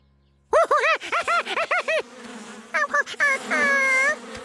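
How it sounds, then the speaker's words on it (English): Loud buzzing comes in a quick series of wavering, pulsing bursts, then settles into a longer sustained drone, close and prominent. "why bees like to crawl inside colorful flowers"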